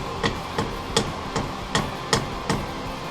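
A hammer drives a plastic scraper down onto a metal scraper wedged against a Willys L134 Jeep engine head, landing seven sharp, evenly spaced blows close by with no talking.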